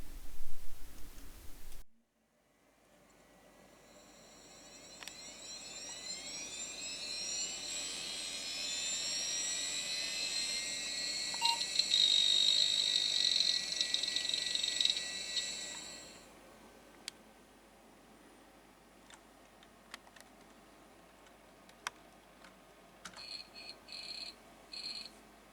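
A computer boots up with a NoiseMaker IDE device attached, a faint fan-like hum under a louder whining whir that swells for several seconds and then drops away, followed by scattered ticks and short chirps.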